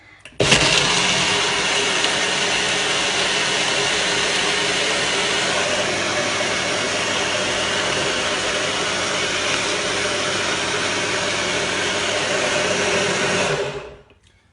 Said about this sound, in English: I'll just blend this up a second, 2 secs.